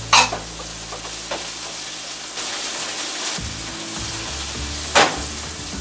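Garlic fries in a hot pan for keto beef stroganoff, a loud continuous sizzle with a few sharper spatters and stirring scrapes, close up and with no talking.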